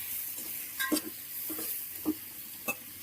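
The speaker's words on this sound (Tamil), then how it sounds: "இது நல்லா கோல்டன் ப்ரௌனா நல்லாவே ஃப்ரை ஆகி வரணும்" Chopped onions fry in a pan for ghee rice, a soft steady sizzle broken by a few sharp scraping stirs of a spoon against the pan.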